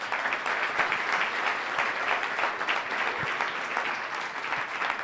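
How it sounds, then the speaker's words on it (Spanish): A church congregation breaks into sustained applause, dense clapping from many hands carrying on evenly for several seconds at moderate volume, with no voices on top. "Le damos un fuerte aplauso al Señor."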